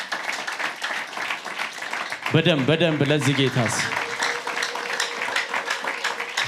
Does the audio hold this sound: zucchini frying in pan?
no